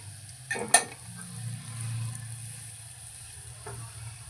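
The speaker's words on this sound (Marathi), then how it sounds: "हिंग घालूया थोडं लसूण छान परतला की" Garlic and asafoetida sautéing in oil for dal palak: a quiet, steady low sizzle, with a couple of sharp utensil clinks near the start and a soft tap later, and no voices.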